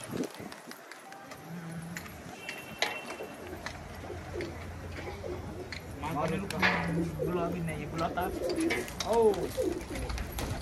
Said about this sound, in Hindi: ये सारे कबूतर हमने बाहर निकाल दिए दोस्तों।